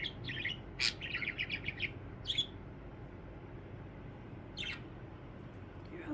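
A pet budgie parakeet gives a quick series of high, squeaky chirps near the start, then a couple of isolated short calls later, close and fairly quiet against soft room noise.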